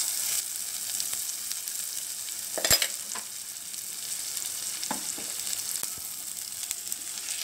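Mint and coriander leaves sautéing in a pan for chutney, giving an even hissing sizzle with occasional clicks and one sharper clatter of a utensil.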